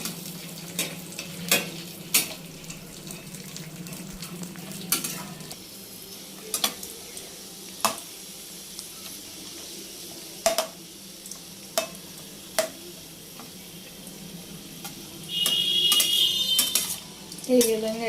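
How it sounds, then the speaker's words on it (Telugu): Dry fruits fry in a kadai for bread halwa, a steady soft sizzle under repeated sharp clinks and scrapes of a metal spoon against the pan, with a brighter hissing burst near the end. "డ్రై ఫ్రూట్స్ అనేవి కూడా అన్నీ వేసుకొని వేయించుకుంటున్నాం గోల్డెన్ కలర్ వచ్చేలాగా"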